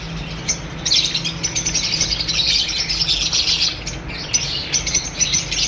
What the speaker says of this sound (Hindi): जावा के अंदर ब्रीडर पेयर आ गया माशाल्लाह जंबो साइज़ के अंदर